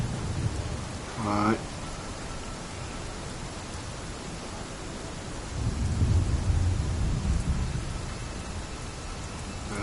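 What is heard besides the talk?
rain in video game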